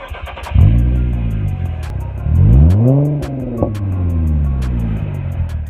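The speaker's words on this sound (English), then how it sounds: "The stock exhaust doesn't really sound all that great, but with MagnaFlows, it sounds okay." A Cadillac CTS V6 with aftermarket MagnaFlow mufflers revs up twice with a deep, throaty exhaust note, rising in pitch each time, then settles into a rumbling idle.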